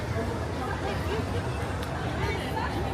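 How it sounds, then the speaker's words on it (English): Steady crowd hubbub at Disneyland park, a dense wash of overlapping distant voices and chatter with no single speaker standing out, continuous and moderately quiet throughout. "it's a nice, manageable crowd today."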